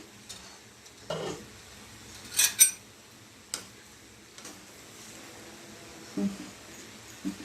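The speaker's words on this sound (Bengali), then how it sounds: "এবার আমি পোলাওটা সার্ভ করে দিচ্ছি।" A spoon scoops golap pulao from a cooking pot, making intermittent clinks and scrapes of metal on metal, a few louder clatters among the quieter moments.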